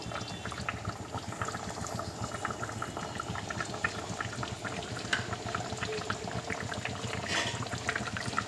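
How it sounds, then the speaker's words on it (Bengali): Yogurt and mustard hilsa fish curry boils in a pan, a dense, steady bubbling and sputtering that holds at an even level throughout, close up, with no talking. "এটা একটু ফুটলে আমি ঢাকা চাপা দেব।"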